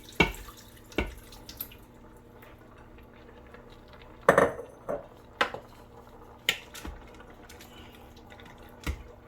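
Metal clinks and scrapes as meat is tipped back into a cooking pot of posole, with a few sharp knocks spaced across quiet kitchen background.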